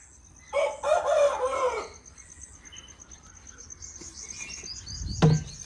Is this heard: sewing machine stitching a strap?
no